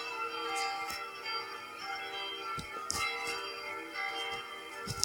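Five bells ring at the Saint-Étienne chapel in Sully to open the first mass, giving a faint, distant peal of scattered bright strikes over a steady background hum.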